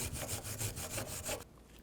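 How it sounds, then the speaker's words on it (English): A wire brush scrubbing rust off front brake caliper parts on a 2009-15 Toyota Prius, heard as loud, close, rhythmic back-and-forth rasping strokes that stop abruptly near the end. "You can take a wire brush and just clean this up a bit."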